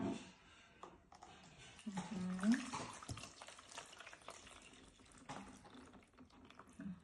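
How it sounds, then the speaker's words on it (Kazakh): Water is poured into a container for a children's ice experiment, a faint trickling splash that swells briefly midway, with a voice talking quietly nearby. "Суды құяйық ыдысымызға"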